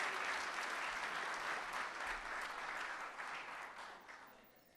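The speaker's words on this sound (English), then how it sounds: "Another round of applause." An audience applauds at a community awards breakfast, a broad wash of clapping that stays steady, then gradually thins and fades toward the end.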